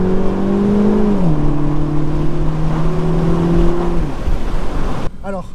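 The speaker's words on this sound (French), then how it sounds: "on repart maintenant pour une petite accélération" A 2018 Mini Cooper S convertible accelerates on the road, its engine droning steadily and loudly close by with a clear pitch shift as it shifts gear, then dropping off abruptly near the end.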